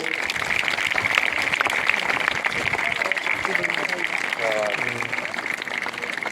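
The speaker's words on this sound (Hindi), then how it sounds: "तालियां बजाएं जोर से।" School award ceremony audience applauding, a loud, continuous clatter of many hands with a voice speaking over it partway through.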